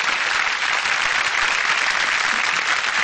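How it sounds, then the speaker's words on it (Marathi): Audience at a live stage show breaking into loud, dense applause, a continuous wash of many hands clapping nearby for the full three seconds. "मला वाटतं एकदा जोरदार टाळ्या या दोघांसाठी झाल्याच पाहिजे."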